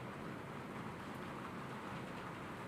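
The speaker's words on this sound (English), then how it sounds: "Can you guys hear the rain coming down?" Steady rain pours down in a continuous, even hiss with a low rumble beneath, no talking over it.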